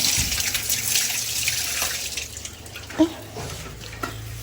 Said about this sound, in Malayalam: ഒരു മിനിറ്റ് കൈ കഴുകാം